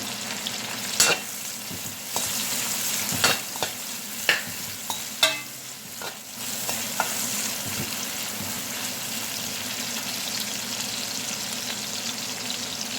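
Honey-glazed masala chicken fries in a pan with a steady sizzle. Sharp crackles and spatters burst over it, most often in the first half, and no one speaks.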